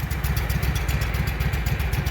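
A Walker riding mower's small engine, which has been backfiring through the carburetor, runs at a lowered idle with a steady, throbbing low-frequency putter, close and continuous throughout with no talking.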